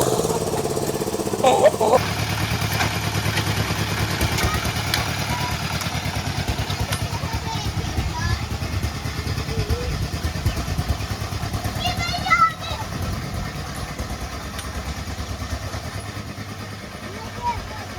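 A walk-behind tractor's small single-cylinder engine chugs steadily throughout, close and loud, with people talking and shouting over it and occasional clatter.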